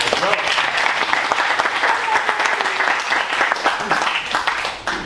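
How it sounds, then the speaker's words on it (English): A seminar audience greets speakers coming on stage with sustained clapping, dense and steady throughout, with faint voices in the mix. "Let's give them a round of applause."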